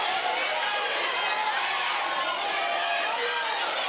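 Loud, steady crowd roar fills a high school wrestling gym during a Graham versus St. Edward match, a dense wash of voices and cheering that never lets up.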